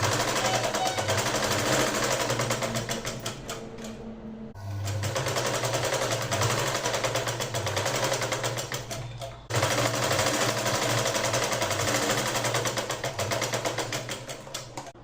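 Sewing machine stitching a single line along a V neck, fast rapid mechanical clatter running in two long bursts with a short pause between them.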